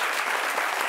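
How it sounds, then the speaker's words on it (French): Studio audience at a French-language talk show breaks into steady, dense applause, a loud continuous wash of clapping throughout the brief moment with no voices on top. "Applaudissements pour vous-même"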